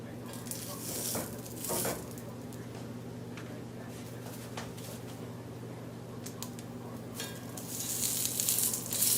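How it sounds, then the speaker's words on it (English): Traeger bacon sizzles on a hot cast iron griddle at medium-low heat, a steady hiss throughout with a faint hum underneath and a few brighter crackling bursts, growing louder near the end. "Put my Traeger bacon in."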